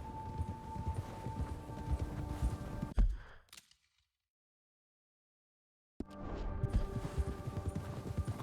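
Horse hooves clop in Red Dead Redemption 2, a steady rhythmic beat under game ambience that cuts to complete silence midway, then resumes just as strongly.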